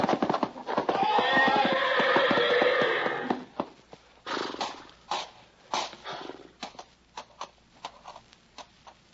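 A horse whinnies loudly and snorts in a staged radio drama scene, followed by scattered heavy hoof stamps and trampling thuds that fade into irregular clops, with no talking.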